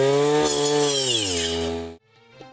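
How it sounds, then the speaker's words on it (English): A power weeder fitted with a special circular blade prunes mulberry bushes, its motor holding a loud, steady high whine with strong harmonics that drops in pitch slightly before cutting off abruptly near the end, followed by faint rustling. "Weeder is being used by attaching this special circular blade for this purpose."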